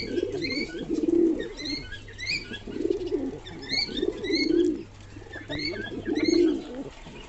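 Pigeons in a loft coo close by in repeated low, throaty rolling calls in a steady cycle, with faint chirps and rustling behind them and no talk.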